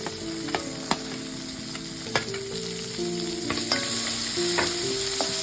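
Onions and curry leaves frying in a pan for a jackfruit dish, steady sizzle close up with irregular sharp clinks and scrapes of a spatula stirring.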